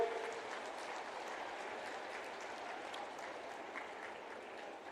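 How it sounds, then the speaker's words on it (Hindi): Crowd applause filling a large hall at a state silver jubilee event in Chhattisgarh, marking the inauguration of a new legislative assembly building, steady dense clapping throughout at an even level. "दोनों हाथ उठा के,"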